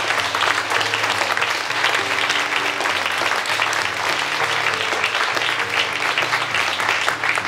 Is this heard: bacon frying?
no